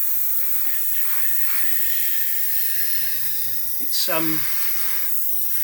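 Gaahleri Mobius premium airbrush with a 0.2 nozzle spraying at full flow at 18 psi, giving a steady, close, bright hiss throughout, with a brief spoken word partway through.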